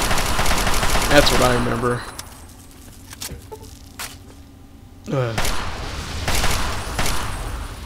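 Bursts of rapid gunfire in Fallout 3, loud at the start and again near the end, with a person talking over the shots.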